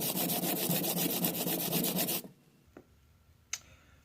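Coarse 40 grit sandpaper rasps rapidly back and forth on the wood of an acoustic guitar for about two seconds, loud and close, then stops, leaving quiet with a couple of small knocks.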